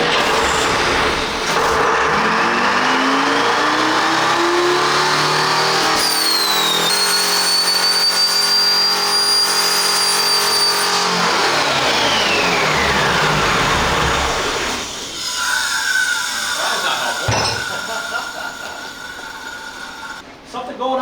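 An electronic Detroit Diesel 453 engine revs hard on a dyno, a loud sustained roar whose whine climbs in pitch, holds, then winds down, with voices talking over it near the end.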